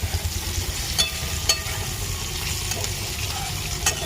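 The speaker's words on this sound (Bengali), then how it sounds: "এখানে হচ্ছে আলু ভাজা," Potatoes frying in a pan in a small home kitchen, a close steady sizzle with occasional sharp clicks and spatters.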